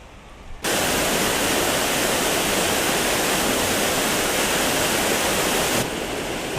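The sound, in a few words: waterfall in Buttes Chaumont park, Paris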